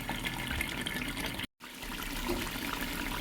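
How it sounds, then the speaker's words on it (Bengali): Water used to rinse ground onion paste pours steadily into a cooking pan, a continuous splashing rush with one brief break partway through. "দিয়ে দেবো পেঁয়াজ বাটা ধোয়া জলটা"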